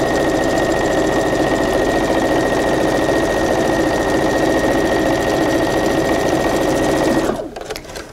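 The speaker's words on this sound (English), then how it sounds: "And I'm just going to go ahead and sew mine on" A sewing machine runs continuously and loud up close, stitching a long fabric strip onto the side of a quilt block, then stops abruptly near the end.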